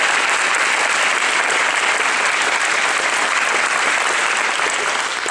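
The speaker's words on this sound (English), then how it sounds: "if we could give her a round of applause simply" Dense, steady audience applause for Shannon Linen at a blood cancer charity team event, loud and continuous throughout with no talk over it.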